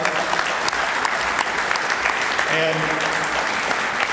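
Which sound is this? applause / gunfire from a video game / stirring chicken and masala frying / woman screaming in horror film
applause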